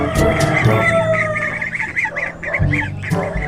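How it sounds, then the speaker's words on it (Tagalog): Goose goslings and other fowl make busy honking and peeping calls, close and fairly loud, overlapping in an uneven chorus with a few lower thumps. "Yan, sisiw ng gangsa."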